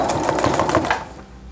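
A domestic sewing machine stitches knit fabric to cotton tricoline, a close, loud, rapid mechanical chatter of needle strokes that runs for about a second and then stops, leaving quiet.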